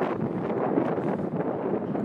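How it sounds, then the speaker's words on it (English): Strong wind blows outdoors beside a canal near grain silos, buffeting the microphone in a continuous loud rumble and roar with no pauses. "It's extremely windy out. It got windy out of nowhere."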